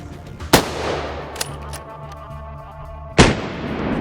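Rifle shots ring out during a wild boar hunt in Hungary: a loud sharp report, a faint smaller crack, then a second loud report about three seconds later, each followed by a rolling echo.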